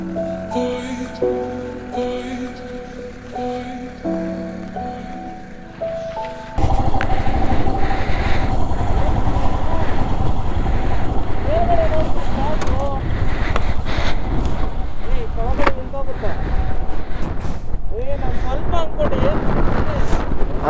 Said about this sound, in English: This is extremely windy.